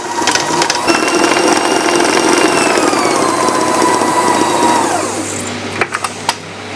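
A machine mixes marzipan paste loosened with added egg whites. It gives a steady whirring hum with a falling pitch that winds down near the end, followed by a few soft knocks.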